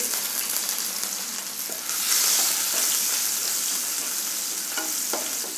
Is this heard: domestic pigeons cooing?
no